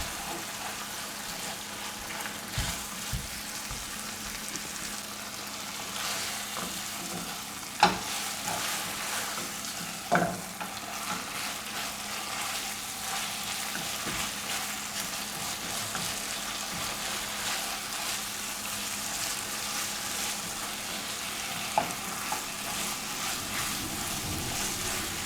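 Honey garlic cauliflower Manchurian frying and being stirred in a pan, with a steady sizzle broken by occasional scraping and clinking of the spoon against the pan, and brief speech in places.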